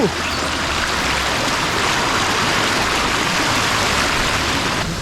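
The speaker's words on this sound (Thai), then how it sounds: "อันนี้คือน้ำตกเจ็ดคนเหนือใช่ไหมพี่" A waterfall in Thailand, near Saraburi, pours into a stream as a loud, continuous, close rushing roar of falling and churning water that holds steady throughout.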